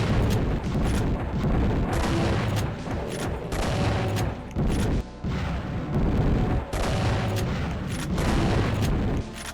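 Dense, repeated heavy shotgun blasts and booming gunfire in Doom II, firing loud and close in irregular bursts almost without pause, with no talking.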